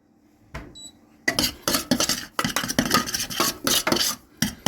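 A spoon scrapes and clatters against a metal pan while flour is stirred in to make a roux for lasagne, in irregular bursts of close scraping and knocking after a quiet start.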